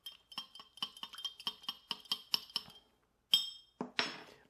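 Spoon clinking repeatedly against a glass while stirring a banana bread Old Fashioned cocktail, a quick run of close, bright ticks followed by a couple of louder clunks as the glass is handled.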